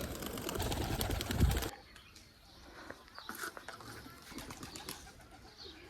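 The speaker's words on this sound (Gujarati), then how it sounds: "હવે આપણા કબૂતરને ઉડાડવાનો સમય થઈ ગયો છે" Pigeons let out from a rural farm enclosure, with a loud burst of wing flapping and bustle at the start, then quieter scattered coos and soft bird calls as they take off.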